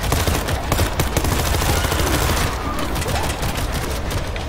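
Dense, sustained gunfire from the World War Z video game, with rapid bursts overlapping into an unbroken loud barrage throughout, occasional heavier booms punching through.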